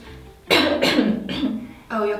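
A person coughs several times in a row, close and fairly loud, with short rough bursts and a brief pause between them.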